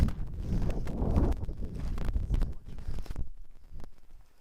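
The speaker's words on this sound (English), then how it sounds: "With this wind" Gusty wind on a hilltop in the medieval village of Monsanto, Portugal, buffeting the microphone in loud rumbling bursts for about three seconds before it suddenly drops away to near quiet with a few faint clicks.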